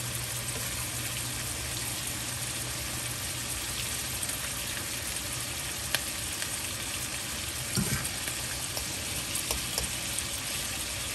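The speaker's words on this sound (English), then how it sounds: "Okay, now we're getting a good sizzle on here now." Steak pan frying in butter and garlic, a steady dense sizzle with faint crackles and a few brief clinks near the end, close and continuous without any talking.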